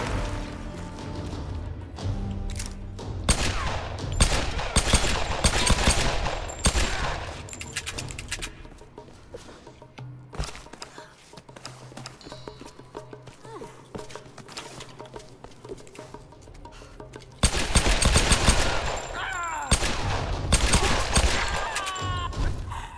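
Bursts of rapid gunfire and explosions in Tomb Raider (2013) crackle loudly, with rhythmic clattering, quieter gaps, and a heavy barrage near the end.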